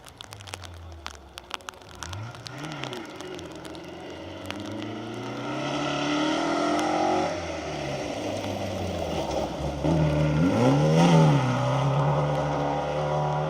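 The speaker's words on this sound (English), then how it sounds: "We've also got the Triumph TR7 V8, which should here come rumbling into view as well very soon." A Triumph TR7 V8 in Safari rally spec rumbles past on a forest rally stage, its engine note rising and falling as it approaches and passes, with loose gravel crackle and faint wind around it.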